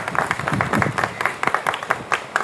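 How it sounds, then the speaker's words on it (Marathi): A small audience claps for a guest, with distinct, uneven hand claps close by and no talking. "एकदा टाळ्या खरंच सरांसाठी जोरदार"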